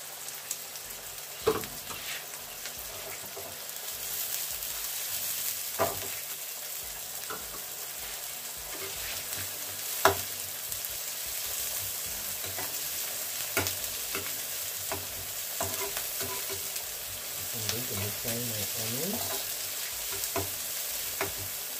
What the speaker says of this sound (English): So I want my mayonnaise potatoes to fry until they are crispy and golden brown.